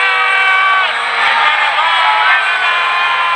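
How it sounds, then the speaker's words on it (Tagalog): A crowd of people shouting together in a dramatized Bible reading, a dense sustained roar of many voices that stays loud and steady throughout. "sigaw ng mga tao."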